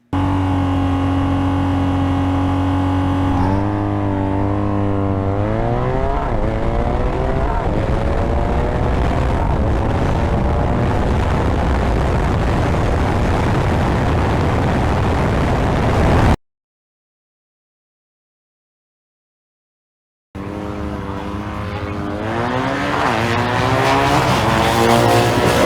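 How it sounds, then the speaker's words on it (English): BMW R nineT /5 motorcycle accelerating hard at a drag strip, a loud, close engine roar whose pitch climbs steadily through the gears. It cuts out briefly, then comes back rising again. "let me show you a video of this bike in action out at the drag strip."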